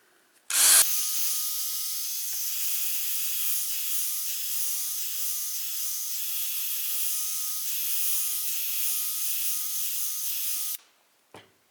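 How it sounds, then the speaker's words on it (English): A plastic headlight is sanded with 500 grit sandpaper as part of a headlight restoration, producing a loud, steady whirring grind that starts abruptly, holds for about ten seconds and cuts off sharply, with no talking. "we start out with a 500 grit sandpaper"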